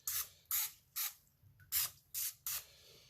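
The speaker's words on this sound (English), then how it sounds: "we're going to hit a little bit of olive oil. Just some spritzing, just to help promote nonstick." Olive oil spray spritzed onto a hot cast iron pan in six short, sharp hissing bursts at a steady rhythm, close and fairly loud with quiet gaps between.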